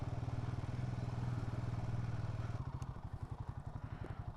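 A motorcycle engine idles and putters close by as it rides onto a beach, a steady low rumble that shifts into a choppier, pulsing throb partway through, with some clattering.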